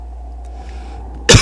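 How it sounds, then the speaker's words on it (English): A single sharp cough bursts out at the very end, close and loud, after a stretch of quiet room hum. "Damn, that's a lot of coughing."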